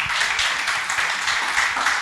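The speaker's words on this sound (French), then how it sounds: "Je pense que ça mérite des applaudissements encore." Audience applause at a literary meeting, a dense, sustained patter of many hands clapping at once, loud and even from start to finish with no talking over it.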